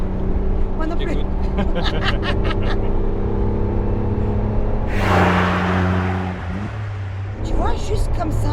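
A Renault Clio V6 Phase 2 engine drones and then surges into a louder burst of acceleration, heard from inside the car as people talk over it.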